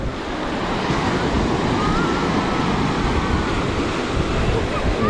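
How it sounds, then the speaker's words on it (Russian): Sea waves wash steadily onto a busy summer beach at Lazarevskoye near Sochi, a continuous broadband surf roar with wind buffeting the microphone throughout. "Волна все равно есть."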